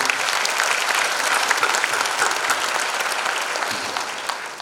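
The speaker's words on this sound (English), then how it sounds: "join with me for a big round of applause for those" Sustained applause from an audience at a university convocation ceremony in Sri Lanka, dense clapping from many hands filling the room at an even level throughout.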